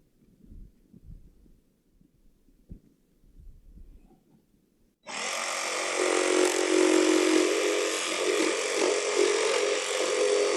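A power tool cuts a small notch in wood on a chicken coop nest box install for screw heads; after a few seconds of low knocking and handling, a loud steady whining buzz starts abruptly and runs on.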